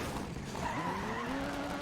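A rally car skidding in DiRT 3, a racing video game, with tires squealing in rising and falling tones over a steady engine drone, close and sustained, lasting under two seconds.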